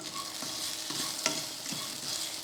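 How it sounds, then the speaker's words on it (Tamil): Pieces of coconut sauté with shallots in a hot pan for chicken curry, a steady close sizzle broken by several scraping stirs, with no talk. "இந்த டைமில் தேங்காய் வந்து ஒரு துண்டு தேங்காய் சேர்த்துக்கலாம் சேர்த்து இதையும் வதக்கிடுவோம்"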